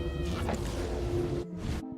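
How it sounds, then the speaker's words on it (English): A cat meows in the video game Black Desert, a drawn-out, close and clear call followed by shorter trailing meows as background sound cuts out. "And of course there's always the cat to bring us out."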